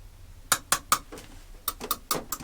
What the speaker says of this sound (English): Now we're going to stir in a little bit of this black sparkle.